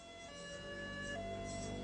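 Emergency sirens from ambulances and fire engines arriving at a crime scene in Washington DC wail steadily and faintly in the distance over a low street rumble, with no one talking.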